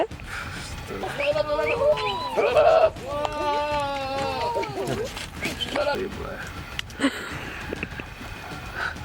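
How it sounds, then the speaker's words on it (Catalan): Goats bleat loudly and repeatedly with wavering cries alongside shepherds in the Moroccan mountains, heard up close while someone talks over them. "Els pastors i les cabres,"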